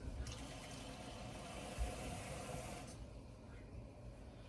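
Water runs and pours steadily for about three seconds, a close liquid rush that then cuts off, leaving a quieter room tone.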